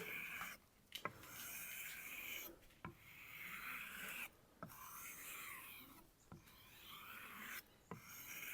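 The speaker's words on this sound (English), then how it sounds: "I might give it a few rubs on the ribs or the ridges" A Global kitchen knife scrapes in quiet rasping strokes across the ridges of a sharpener, with about half a dozen regular passes each ending in a faint click.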